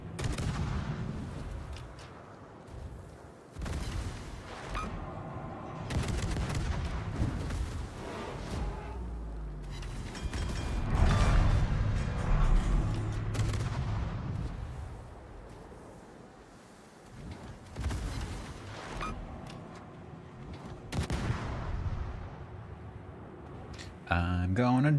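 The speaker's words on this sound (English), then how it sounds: "Careful, you're being shot at." Heavy naval gunfire in World of Warships, repeated booming salvos and rumbling shell impacts rolling over sea ambience, steady and loud throughout with someone talking over it.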